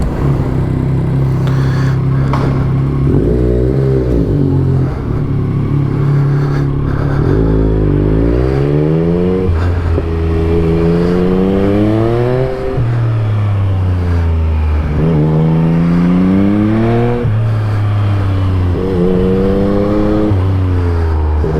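A 2021 Yamaha MT-09 motorcycle being ridden, with its engine revving up and dropping through repeated gear changes. The exhaust note is loud, close and steady, rising and falling in pitch, with no talk.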